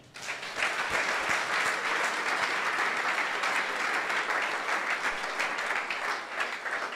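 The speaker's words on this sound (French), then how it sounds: "Acclamons le Seigneur" A congregation at an evangelism gathering breaks into sustained, loud applause acclaiming the Lord, a dense wash of clapping that holds steady for several seconds.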